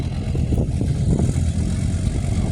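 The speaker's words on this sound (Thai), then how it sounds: "รถแกดินเข้ามาเฮือนน้องบุญทวีพี่น้องเนาะ" A truck hauling soil drives in on a rural Thai homestead, its mid-pitched engine rumbling steadily and fairly loud throughout, with no talk over it.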